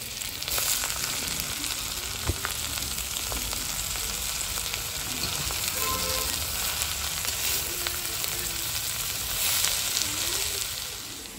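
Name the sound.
garlic, onion and green chili frying in oil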